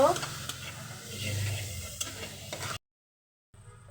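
Ground coriander and cumin powder fry in a pan for a fish-and-potato curry, giving a steady close sizzle with spoon scraping for under three seconds before it cuts to silence, then a faint return.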